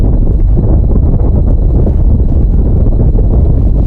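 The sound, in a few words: wind blowing into the microphone outdoors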